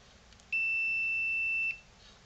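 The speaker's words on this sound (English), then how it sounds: "Listen for the beep." A sustained electronic beep from a multimeter continuity test across a PlayStation 4 power supply fuse during a no-power repair, one steady tone lasting about a second, close and clear over a quiet background.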